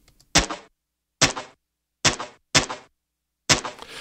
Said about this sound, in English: Take a listen to this gunshot sound effect.